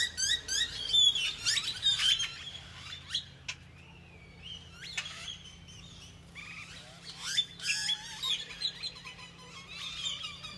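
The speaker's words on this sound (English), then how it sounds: "There's a whole bunch of mockingbirds and all kinds of birds out there, and they're so noisy" Mockingbirds and other birds chirp and call outdoors, overlapping trills and whistles at varying distances, some near and loud, others fainter, with no talking.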